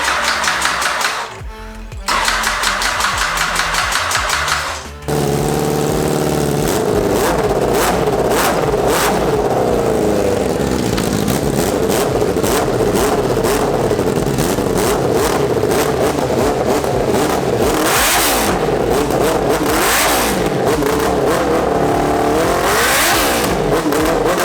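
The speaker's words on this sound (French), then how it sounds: "Voilà, du coup ça redémarre." A Honda CBR 1000 turbo motorcycle cranks and catches, then its engine idles unevenly and revs repeatedly in rising and falling surges, loud and close in a workshop setting.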